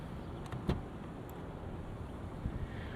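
A quiet, steady hum of cooling fans comes from a 2024 Genesis G90 with a 3.5 liter engine, faint and continuous inside the cabin. A brief soft click occurs early on.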